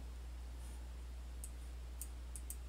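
Faint, sharp mouse clicks land three times, spaced apart, on a button, over a constant low hum in a quiet room.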